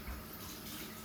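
Tap water running steadily as hands are washed under it in a kitchen, a faint brief rush of flowing water.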